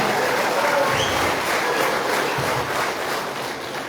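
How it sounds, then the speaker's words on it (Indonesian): Crowd applause at a pre-service training gathering for K-2 civil service candidates in Paniai: steady, dense clapping from many hands that tapers off a little near the close. "Tepuk tangan"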